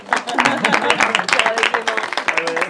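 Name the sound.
audience applause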